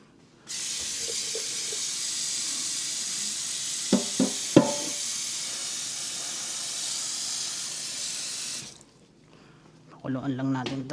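A pan of food with broccoli and mackerel on the stove gives a loud, steady steaming hiss that cuts off abruptly after about eight seconds, with a few clicks and a voice talking briefly at the end.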